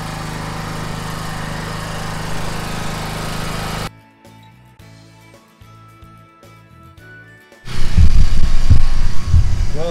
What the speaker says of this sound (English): pull out the trencher and start trenching